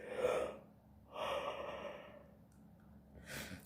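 A person yawning audibly, with two long breathy exhalations and a shorter breath at the end, close and fairly quiet with no talking.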